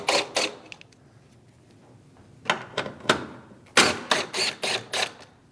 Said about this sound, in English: Continue down the front, removing the bolts.